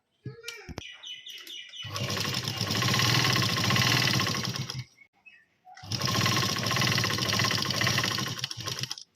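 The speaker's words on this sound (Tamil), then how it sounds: "நாம் ஏற்கனவே வெட்டி வச்சுருக்க வார் டேப்பை வந்து இதில் வந்து தைக்க போகிறோம்." A sewing machine stitches strap tape onto a homemade school lunch bag, running in two steady bursts of a few seconds each with a short pause between, close and fairly loud after some brief handling noise.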